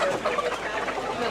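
Chickens cluck amid a busy Bangladeshi market, a brief, dense wash of bird calls and crowd noise with no clear talk on top.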